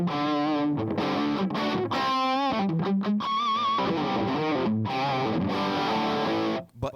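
Electric guitar through an overdrive distortion pedal, loud crunchy chords and single-note riffs in quick bursts with short pauses, played alone.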